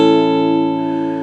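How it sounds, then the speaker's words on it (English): A bar chord strummed once on guitar rings out as a full, steady chord that sustains and slowly fades over about a second, close and clear with no talking. "it sounds like this when you put it all together"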